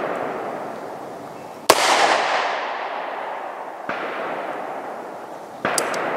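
Bond Arms Rowdy derringer fired outdoors, three sharp, loud gunshots a couple of seconds apart, each followed by a fading echo.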